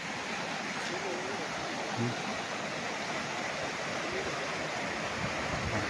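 A river beside a farm lot in Liliw, Laguna rushes past in a steady broadband wash of flowing water, loud and continuous with no pauses, and a faint voice occasionally beneath it.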